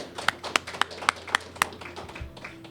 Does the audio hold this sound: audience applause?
yes